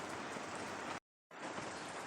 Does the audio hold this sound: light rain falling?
yes